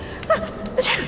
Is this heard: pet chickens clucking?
no